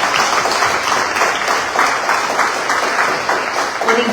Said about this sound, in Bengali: জোরে হাততালি জয়ন্ত